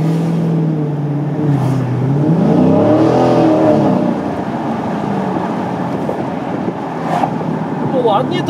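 A Dodge Challenger R/T 6.4 V8 SRT engine revs up and holds a deep rumbling note, then settles to a steady throaty idle, loud and close.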